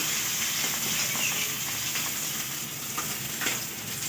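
Fish fries in hot oil with a steady, dense sizzle and hiss, close and continuous throughout, with no one talking.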